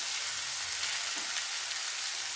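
Potatoes frying with a ground masala paste in a pan give a steady, close, fairly quiet sizzle that holds even throughout, with no voices.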